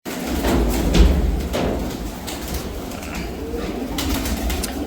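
Pigeons in a Punjabi fancier's loft, including Punnu, Hajar and Jenta breeds, give low, steady cooing amid a continuous murmur of birds, fairly close and moderately loud, with faint flapping and rustling throughout.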